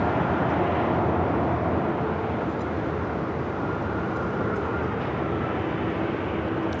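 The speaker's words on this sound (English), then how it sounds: "Just had Southwest Airlines Flight 1157, a flight coming in from Vegas on the 737-700, touching down here on the south side." Southwest Airlines Boeing 737-700 touching down at LAX, a steady broad roar of jet noise holding at constant loudness from a distance, with no talk.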